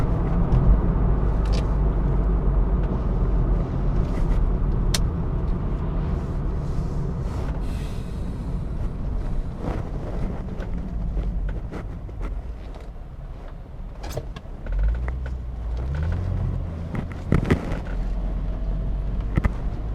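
Steady low road rumble inside a moving car, continuous and fairly loud for the whole stretch, with faint wind noise and a few brief knocks and clicks, no talking.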